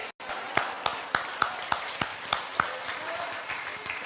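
An audience at a sermon gives sparse, scattered applause: a handful of distinct, separate claps spaced out over a few seconds rather than a full ovation.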